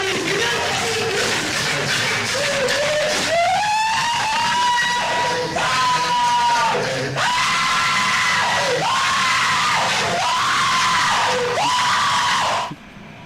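A person screams repeatedly, with about half a dozen long, loud, strained cries in a row, separated by short pauses and some background noise.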